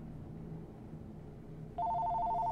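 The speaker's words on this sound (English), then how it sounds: "Fucking phone." A telephone in Skyrim Legendary Edition begins ringing near the end, a loud steady electronic tone cutting in abruptly over a low background hum of game ambience.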